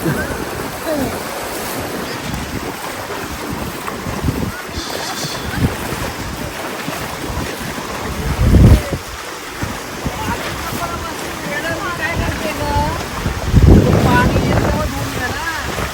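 Waves wash onto a beach on a hot summer day, a broad rushing surge under heavy wind buffeting on the microphone, with two louder breaking swells and people talking faintly in the background.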